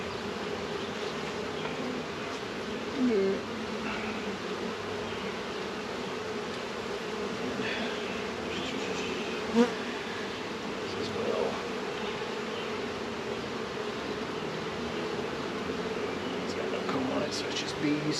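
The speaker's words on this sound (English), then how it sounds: "So it's just bees" Dense, steady buzzing of a bee swarm gathered in a swarm trap, a continuous drone throughout with faint voices now and then beneath it.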